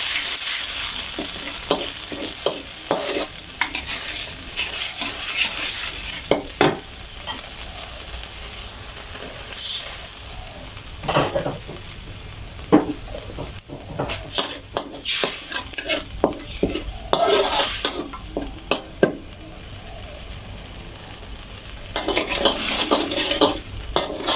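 Spicy fish balls stir-fried in rice bran oil in a home kitchen: a steady sizzle runs under repeated scraping and clattering strokes of a utensil against the pan, close and fairly loud, with no talking.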